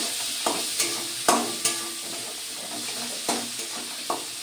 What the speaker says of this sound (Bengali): এবার দিয়ে দেবো ছোটো সয়াবিন, দিয়ে ভালো করে নাড়াচাড়া করে নেব